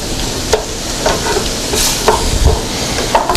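Ground meat for a Bolognese sauce browns in a pan with a steady sizzle and frying crackle, broken by a few sharp scrapes and clatters of stirring.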